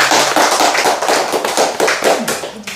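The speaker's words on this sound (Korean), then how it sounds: "박수로 이 자리를 마치겠습니다" An audience claps together to close a talk by a pastor recounting his life story: dense, steady clapping that fills the room and stays loud throughout, tapering slightly at the very end.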